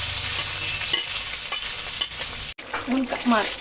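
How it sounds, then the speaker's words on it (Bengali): Wet tomato, ginger and green chilli paste sizzles and spatters in hot mustard oil in a wok, with stirring scrapes throughout and a brief cut near the end before louder sizzling resumes. "টমেটো আদা কাঁচা কাঁচা লঙ্কা পেস্টটা আমি দিয়ে দিলাম কড়াইতে"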